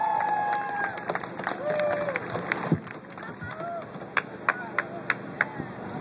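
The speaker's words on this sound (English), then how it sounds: "give yourself a round of applause" Crowd at an outdoor protest rally applauding and cheering, a broad wash of clapping with shouts, voices and sharp whistles over it, fading to scattered claps toward the end.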